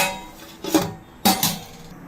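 A metal lid set onto a cooking pot in a South Indian home kitchen gives two sharp, close metallic clinks about half a second apart, each ringing briefly before fading.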